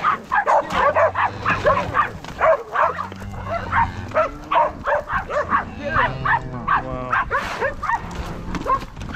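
Several herding dogs bark repeatedly in quick, overlapping yips and woofs, close by, with cattle lowing faintly in the background on a mountain.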